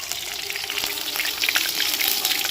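Chopped green chillies and grated ginger fry in hot oil, giving off a continuous close sizzle with scattered crackling pops, no voices over it.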